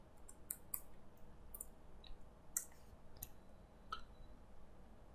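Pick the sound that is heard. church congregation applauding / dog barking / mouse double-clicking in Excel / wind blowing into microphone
mouse double-clicking in Excel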